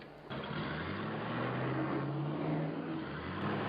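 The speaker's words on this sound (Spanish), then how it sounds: "cuando el coche entra en una recta, vuelve a acelerar" A car accelerates along a straight with a steady, rising engine whine and broad road roar. The sound is close, continuous and fairly loud, with no voices.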